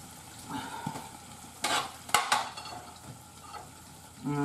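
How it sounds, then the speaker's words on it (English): Chicken thighs sizzle and fry in a pan on the stove, a quiet steady crackle with a few louder bursts of spattering and clatter near the middle and a short knock at the end. "Y'all heard that sizzle?"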